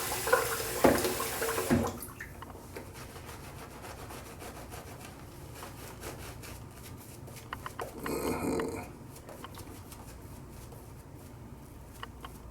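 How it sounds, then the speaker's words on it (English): Water runs from a bathroom tap during shaving in short, fairly loud gushes: one burst at the start and another a few seconds later, with quiet rubbing and handling sounds between them. "I think I want to put some more water in this."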